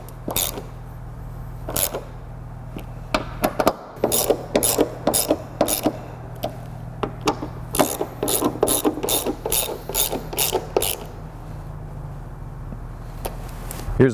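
A hand ratchet clicks in quick bursts of pawl clatter as it tightens roof rail fasteners on a Honda Odyssey, close and loud, with brief pauses between runs.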